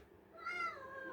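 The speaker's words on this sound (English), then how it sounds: "He wants to get out to go mate with the other cats, Tourmaline." A male cat meows by a door, a single drawn-out, rising and falling cry, fairly close and alone, wanting to get out to mate with other cats.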